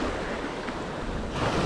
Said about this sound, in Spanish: Normalmente no es más intenso que esto el mar acá en Caraguatatuba